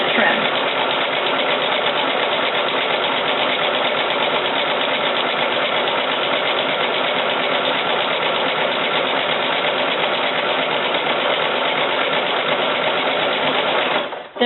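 A sewing machine chain stitches a run of butted fabric pieces straight through, a steady continuous mechanical whir holding at an even level throughout, then stopping abruptly at the end.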